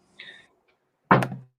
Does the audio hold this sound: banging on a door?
yes